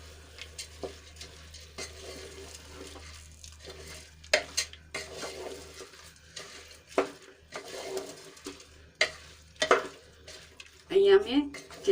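Soaked basmati rice being mixed in a pot for aloo matar pulao, with scraping and clinking spoon strokes against metal, a faint background hum, and brief louder clatters toward the end.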